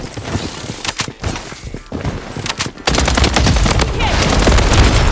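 Rapid gunfire from a SCAR rifle in the shooter game Blood Strike comes in dense, loud bursts of close shots, growing heavier and more continuous in the second half.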